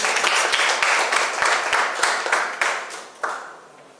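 An audience at a Jamaica Stock Exchange market research awards ceremony breaks into loud, dense applause that holds steady, then thins out and fades toward the end.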